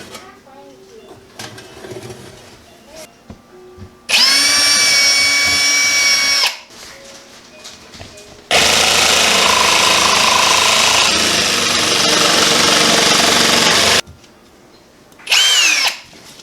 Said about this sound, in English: you're going to take a jigsaw, and then you can just jig around it and you cut it